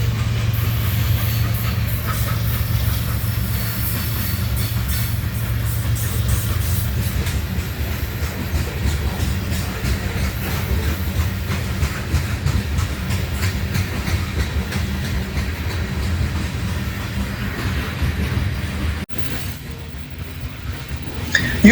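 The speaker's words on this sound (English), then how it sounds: "UP 8633 and SD70 ACE was locomotive number 6 on this coal drag" Union Pacific SD70ACE locomotive, one of several engines on a long coal train in Rochelle, Illinois, passing as a continuous loud rumble with rhythmic wheel clatter and faint squeal that eases off near the end.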